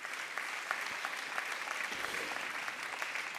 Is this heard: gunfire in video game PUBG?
no